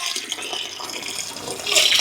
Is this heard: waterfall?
yes